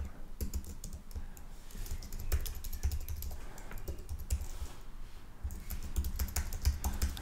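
Fast, steady typing on a computer keyboard while a headline is written in Figma, a dense run of close key clicks that goes on without a break over a low rumbling background.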